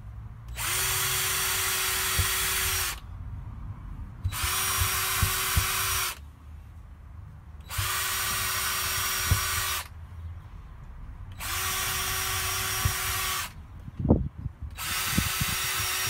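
A power drill whirs in five bursts of about two seconds each, drilling through wood on the ceiling of a Mercedes Sprinter camper van, separated by short pauses with faint knocks and handling noise.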